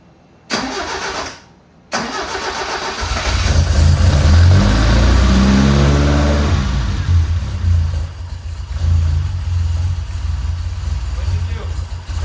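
A newly built car engine cranks briefly, then catches and fires up into a loud rising rev before easing back toward a rougher idle, close by, with people talking over it.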